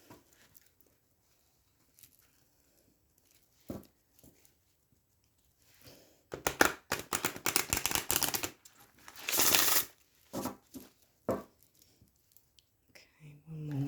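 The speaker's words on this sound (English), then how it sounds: "Give them a few shuffles and then we'll see what cards come through." An oracle card deck is shuffled by hand in a quiet room: a few faint taps and rustles first, then several bursts of rapid riffling and flicking cards, close and crisp.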